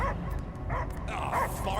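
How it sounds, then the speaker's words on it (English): Dogs barking and whimpering in Guardians of the Galaxy, several yips and bow-wows close by, mixed in with voices talking. "I hear only barking."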